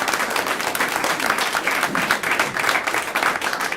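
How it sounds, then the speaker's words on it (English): An audience at a school board meeting claps in a steady, moderately loud round of applause that continues evenly throughout with no speech over it. "So can we give them a round of applause?"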